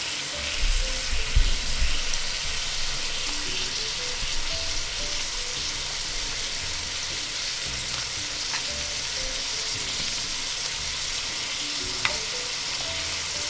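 Tomatoes sizzling in a hot pan for mackerel rundown, a constant loud hiss of frying with soft stirring scrapes near the start and an occasional faint click, no talking.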